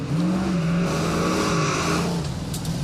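Dodge Challenger with a 440 Magnum Six-Pack V8 fed by three two-barrel carburetors revs in a steady, loud rumble with rising and falling pitch, close by and with no talk.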